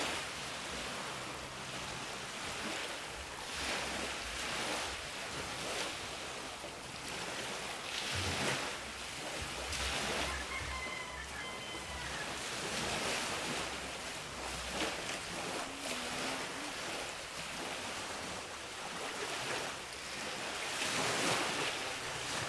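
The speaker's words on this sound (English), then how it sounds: "High tide is just receding a bit now." Ocean surf on a Siquijor Island beach as high tide recedes: a continuous broad wash of breaking waves, with steady rushing and periodic swells of louder surges and some wind buffeting the microphone, no one talking.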